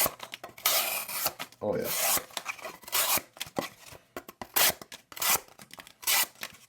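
A flat-grind pocket knife slices through cardboard in a run of short, rasping cuts with brief pauses between strokes, close and fairly loud, with a voice briefly heard.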